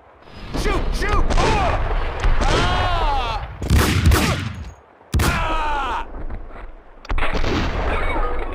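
Gunfire in the Max Payne 2 shooter, sharp loud bursts and rapid volleys mixed with shouting voices and echoing impacts, coming in several dense clusters.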